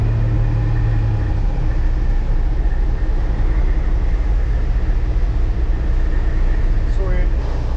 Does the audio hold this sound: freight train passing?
yes